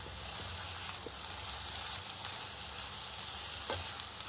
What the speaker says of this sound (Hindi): तो ये मैंने टमाटो डाल दिया एंड आई मिक्स इट